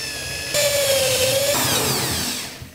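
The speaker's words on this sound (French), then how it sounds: "Perce les trous avec une mèche circulaire." A power drill with a hole saw bit cutting holes for the water connection in a shower back wall panel, a brief close whining spin of about a second that shifts pitch and then winds down.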